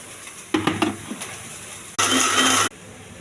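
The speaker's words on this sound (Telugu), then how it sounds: "కరివేపాకు, ఉల్లిపాయలు, పచ్చిమిర్చి అండి కొంచెం బాగా వేగనివ్వాలి." Curry leaves, onions and green chillies fry in a pan, heard as a quiet sizzle with a few clinks of a stirring spoon and then a short burst of loud crackling.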